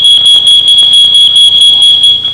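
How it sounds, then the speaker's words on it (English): A smoke detector alarm sounding: a loud, piercing electronic beep pulsing rapidly and evenly without pause, close and alone. "The smoke detector goes off."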